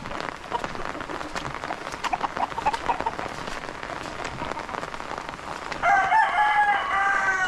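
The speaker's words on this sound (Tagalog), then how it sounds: "Ito mga tandang o tinali." Tied roosters crowing near a rural bamboo hut over a steady hiss like rain, with a loud, clear crow near the end.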